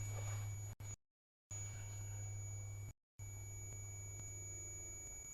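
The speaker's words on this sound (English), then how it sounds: "come back over here and set my alarm off, please" A smoke-alarm-style device emits a steady high electronic tone during a paranormal investigation in a haunted estate, cutting out twice briefly over a low hum, with no talk.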